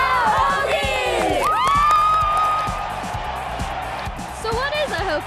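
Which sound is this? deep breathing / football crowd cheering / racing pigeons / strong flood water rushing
football crowd cheering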